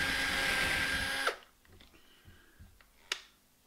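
A power drill with drill bits bores out a rounded-off bolt on an FTX Outlaw, whining loudly and close for over a second, then stopping abruptly, leaving faint clicks and a sharp metallic tap.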